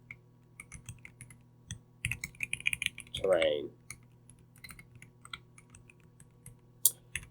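Quick, light taps on a computer keyboard, a short cluster of clicks at a quiet level, with a brief spoken word and some faint background hum.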